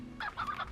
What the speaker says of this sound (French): C'est des poules roussettes.